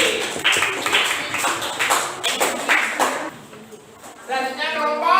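A class in a classroom claps for a student group that has just finished presenting, a few seconds of dense, overlapping applause that fades out before a voice speaks.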